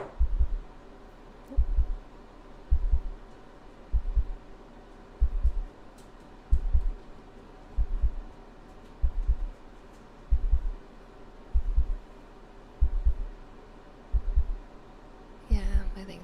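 A slow, steady heartbeat picked up by a microphone for an ASMR recording, with soft paired low thumps repeating about every second and a half over a faint hum.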